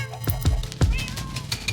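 Cats in the Minecraft video game meow in short, fairly close bursts amid clicks and thumps from gameplay, with game music playing underneath.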